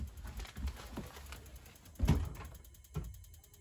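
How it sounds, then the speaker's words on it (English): An RV propane water heater igniter ticks in a few sparse, faint mechanical clicks while it tries to light, each one quiet and spaced about a second apart. "When it's doing that clicking, it's trying to light."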